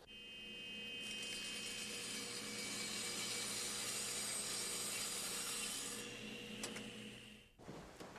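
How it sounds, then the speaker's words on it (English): A board tilted slightly off 90 degrees is fed through a power saw, giving a sustained loud whining cut lasting several seconds before the blade winds down and a few knocks follow, with no talking. "Now when I run it through the saw, it should follow that line"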